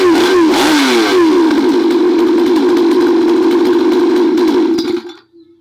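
A small two-stroke chainsaw engine, just restored after a carburetor cleaning, runs loud and close with a steady buzzing drone and a few quick revs at the start, then cuts off abruptly near the end.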